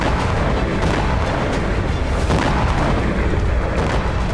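Heavy rocket or missile fire at an Israeli army post in news footage, heard as a dense, loud, continuous rumbling roar with booming low-end surges and no clear pauses throughout.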